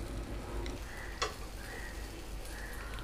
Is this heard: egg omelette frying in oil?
yes